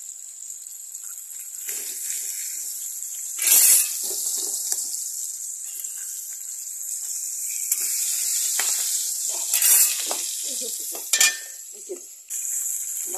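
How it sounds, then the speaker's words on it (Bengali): Small fish fry in oil with a steady, bright sizzle close by, broken by several loud spitting bursts and crackles, with a few muffled sounds of movement in between. "মাছ ভাজা আসছে"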